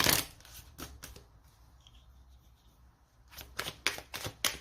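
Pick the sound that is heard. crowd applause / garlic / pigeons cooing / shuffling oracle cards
shuffling oracle cards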